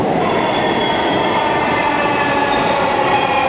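Dhaka Metro train arriving at a station on the Mirpur to Uttara line, a loud, even rush of wheels on rail with a thin squeal riding over it, close and continuous.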